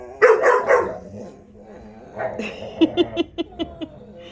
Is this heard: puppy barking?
yes